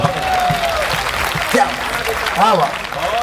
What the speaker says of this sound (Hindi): लोग खड़े होकर तालियां बजाना, मेरा दिल बड़ा हो गया